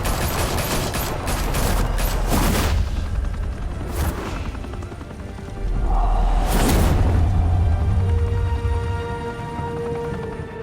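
Gunfire in a Batman video game: heavy sustained bursts of automatic fire with booming impacts, a loud volley at the start and another at around six seconds, over rumbling background action and a whooshing pass.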